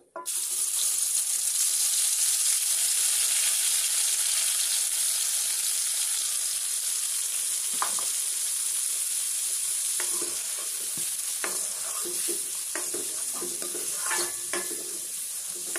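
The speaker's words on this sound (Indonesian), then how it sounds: "panaskan minyak, lalu tumis bumbu halus yang sudah kita blender tadi" Ground spice paste for sayur gori krecek sautéing in hot oil, a steady bright sizzle held throughout, with occasional stirring clinks and light scraping toward the end; no voices.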